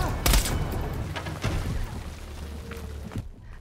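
Gunfire and booming blasts from the Call of Duty Black Ops Cold War video game, several sharp heavy shots early on followed by scattered thuds and a rumbling tail that fades out.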